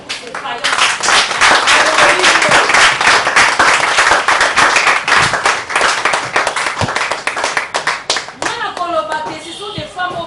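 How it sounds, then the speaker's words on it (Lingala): An audience applauds the women in a dense burst of clapping that fades toward the end, with voices calling out under it and singing-like tones near the close. "Est-ce qu'on peut acclamer pour ces vaillants?"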